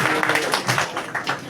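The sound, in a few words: audience applause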